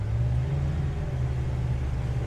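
Yamaha 225HP outboard engine on a 2020 SunCatcher V324ss tritoon boat accelerating under throttle, a loud, steady low drone close by with no talk.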